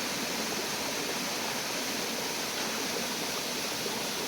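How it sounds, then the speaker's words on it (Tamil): A waterfall in the Kolli hills roars in a steady, dense rush of falling water that stays even and unbroken from start to finish, with no voices. "பக்கத்தில் ஒரு அருவி இருக்குது"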